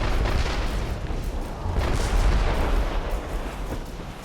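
Heavy ship cannons roar in a dense, continuous barrage during a naval battle in Assassin's Creed Rogue, the loud booms overlapping into a rumbling wall of fire.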